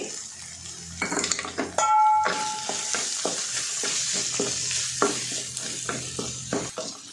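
Tomato, turmeric and grated coconut frying in oil in a pan for avalakki bath, with a steady close sizzle under repeated scraping stirs of a spoon against the metal and a brief clink of utensils.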